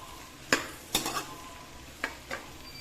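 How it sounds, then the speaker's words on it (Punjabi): Onions and creamy masala being stirred in a pan for a Punjabi onion malai curry, with a soft sizzle under several sharp spoon scrapes and clinks against the metal, no talking. "ਹੁਣ ਆਪਾਂ ਇਹਦੇ ਵਿੱਚ ਮਲਾਈ ਵਾਲਾ ਮਸਾਲੇ ਪਾਵਾਂਗੇ"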